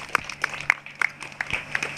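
Sparse applause from a small group at a Fourth of July memorial service, a few scattered claps, fairly faint and irregular, with no talking over it.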